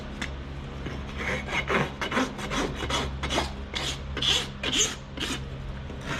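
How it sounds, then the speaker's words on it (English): A farrier's rasp scrapes back across a horse's hoof heels in repeated rough strokes, about a dozen rhythmic rasping pulls, close and clear over a low background hum. "When rasping your heels back with your rasp, you want 2 points of contact on your rasp."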